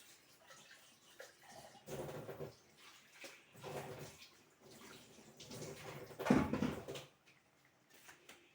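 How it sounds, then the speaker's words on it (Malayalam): Rinse water is poured into a pot of fish curry in a few separate splashing pulses, fairly faint and close, with no talking. "ഒരു ശകലം വെള്ളം കൂടെ നമുക്ക് കഴുകി അതിനകത്തോട്ട് ഒഴിച്ചു കൊടുക്കാം"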